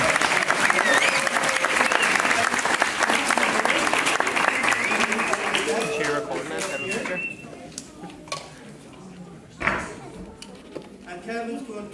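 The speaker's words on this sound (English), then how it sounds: "Give Kevin McGinley a big round of applause." A crowd gives a guest a big round of applause, loud and dense for about six seconds, then thins into scattered claps and room noise. A single sharp knock or clatter comes near the end.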